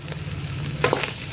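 Rice and spices are stirred and sizzle in a pan at a street food stall, cooked without onion or garlic for moong pulao, with a steady fry hiss and a brief louder scrape near the end.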